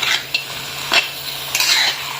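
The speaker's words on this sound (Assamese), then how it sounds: "গতিকে এনেকে মই কিছু টাইম ভাজি থাকিম মাংসটো" Duck meat fries in a wok with a steady crackling sizzle, punctuated by several sharp scraping stirs of a utensil against the pan, close and clear with no talk.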